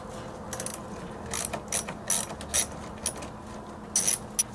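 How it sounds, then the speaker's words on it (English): A 10mm socket ratchet loosens a Jeep battery terminal: short bursts of crisp, close ratcheting clicks, spaced irregularly, over a quiet background. "you'll need a 10mm socket,"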